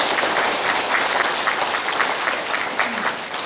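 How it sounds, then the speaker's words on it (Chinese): A lecture audience claps together at a Buddhist talk on the Avatamsaka Sutra, a dense, steady roar of many hands that holds at full strength throughout. "所以我们为自己每一个人都热烈的掌声一下吧"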